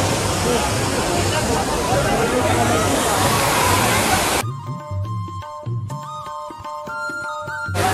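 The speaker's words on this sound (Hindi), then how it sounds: "ये एक मिनी वाटरफॉल है" A small waterfall at Sahastradhara pours steadily as a loud, broad rush of water for about four seconds, then drops away to a quieter background with some tonal sounds and faint outdoor noise.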